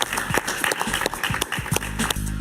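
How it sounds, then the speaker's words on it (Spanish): A TV talk-show studio audience applauds a guest with lively, close, fairly loud clapping that fluctuates throughout, with a little background voice mixed in. "Un aplauso para ella."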